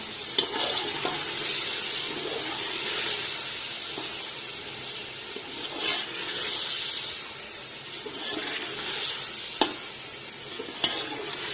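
Chicken fried with masala, long-cut green chillies and tomatoes, stirred in a pot for deggi chicken polao; a steady close hiss and sizzle runs throughout, with occasional scraping stir clicks and no talking.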